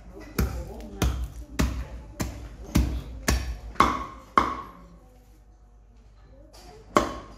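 Meat with bone being chopped on a wooden cutting board, a run of about a dozen sharp, heavy cleaver thuds in a steady rhythm that pauses, then one more strike at the end. Close and loud.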